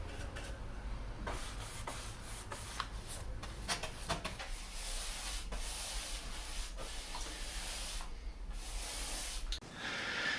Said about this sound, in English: Now I'm going over the whole thing with a bit of undercoat.